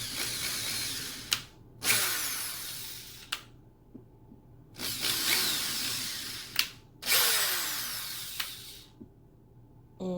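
A power drill whines in three separate bursts, each spinning up for about a second or more, with short pauses and small clicks between runs.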